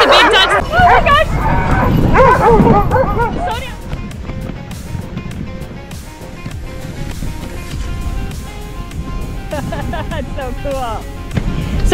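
A team of excited sled dogs barks and yelps loudly at close range during winter dog sledding near Quebec City, with dense overlapping barks throughout and people talking among them.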